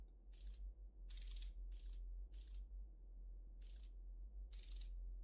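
Six short, bright metallic ratcheting bursts in a steady rhythm as a wrench bolts down pipes in the Space Station 13 video game, crisp over a low constant hum, with no talk.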